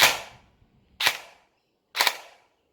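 An M4A1 Gen9 gel blaster cycles its gearbox in three sharp, snappy bursts about a second apart, each with a brief decaying rattle, heard close with no talking.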